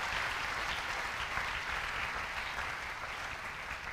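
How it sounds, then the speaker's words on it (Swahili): Church congregation applauding during a Christmas service, a steady, moderately distant wash of many hands clapping that holds evenly throughout. "Pige makofi juu ya neno la Bwana."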